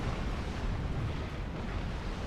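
Continuous heavy rumbling from bombing explosions in a real-time strategy game match, a dense, loud low roar with no gaps, heard alone without talk.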